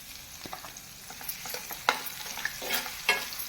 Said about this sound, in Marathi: आता आपण त्याच्यामध्ये घालूया कांदा